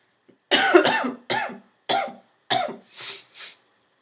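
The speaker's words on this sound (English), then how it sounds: "this cough needs to go away" A person who is ill coughs six times in a row, sharp and close at first, then softer and weaker at the end.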